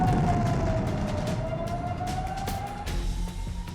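A wailing emergency siren holds a long sweeping tone, sliding down then slowly rising again, heard at a distance over a rumbling background.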